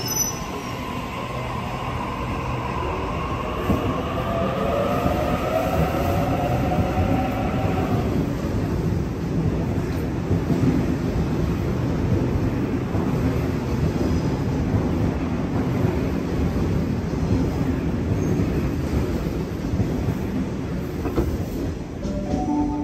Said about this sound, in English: The next train to arrive on platform 23.